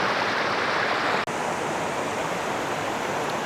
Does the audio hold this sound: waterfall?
yes